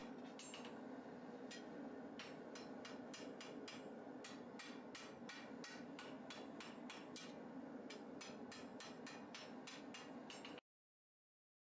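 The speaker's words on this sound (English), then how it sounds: "then I hammer the point over into the middle" Rapid metallic hammer blows on hot steel while forging a katana point, dozens of sharp ringing strikes in an uneven rhythm, close and loud over a steady low roar.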